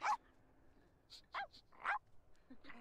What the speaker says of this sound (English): They're gonna be barking all night